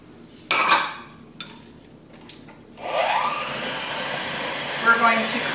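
A kitchen mixer whirs as it creams cookie dough with vanilla and two eggs, starting after a few clinks and knocks and then running steadily and fairly loud to the end.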